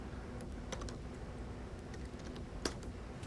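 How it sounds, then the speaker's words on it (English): Keys clatter on an Apple eMate 300 laptop keyboard, a run of soft, fairly quiet clicks at an uneven typing pace, close to the listener and heard alone with no speech. "you can see what the function is at different values by typing the name of the function"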